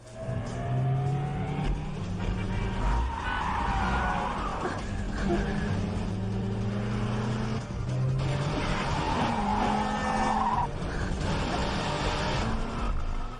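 Car driven recklessly at high speed in an Indian film scene, engine roaring and revving with tire squeals amid a busy soundtrack mix, continuous and fairly loud.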